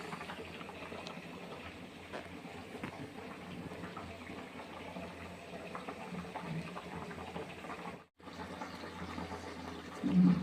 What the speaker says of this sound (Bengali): এখানে বিরিয়ানির জন্য এই যে ভাতটা করে নিচ্ছে।